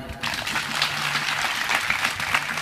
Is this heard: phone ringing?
no